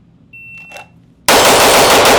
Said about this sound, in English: We're going to run a bill drill on it, 6 rounds, and we'll see how this goes.